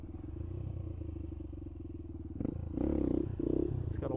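TTR 125 dirt bike engine buzzing steadily near the mic as the rider circles in a street cul-de-sac, then revving up into two louder, rising bursts.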